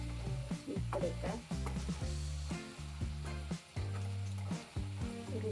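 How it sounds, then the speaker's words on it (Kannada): Brinjal frying in oil in a pan, a steady close sizzle with repeated stirring scrapes and clinks of a utensil throughout, no voices. "ನೋಡಿ, ಎಣ್ಣೆಯಲ್ಲಿ ಈ ಥರ ಫ್ರೈ ಮಾಡ್ಕೋಬೇಕು."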